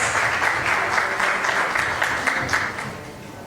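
Audience applause fills a company rewards and recognition ceremony hall, a dense steady wash of many hands clapping that holds loud and even before easing slightly at the end.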